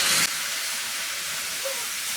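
Peeled boiled tomatoes hit hot oil with browned garlic and popping mustard seeds, giving a steady broad sizzling hiss that opens with a brief louder burst and then continues evenly.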